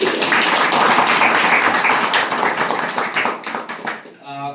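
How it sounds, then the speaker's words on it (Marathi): A gathering of a devotional bhajan group claps loudly together, a dense round of applause that thins into a few scattered claps before a voice begins speaking at the end. "सर्वांसाठी आपण आपल्यासाठी जोरदार टाळ्या वाजवूया"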